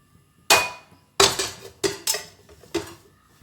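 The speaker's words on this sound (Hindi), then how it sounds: "बस मैंने इसको ढक दिया है।" A metal lid set onto a cooking pot of milk and carrots, giving a string of sharp clanking knocks, one sharp hit and then several quicker clinks and rattles close up, with no talk.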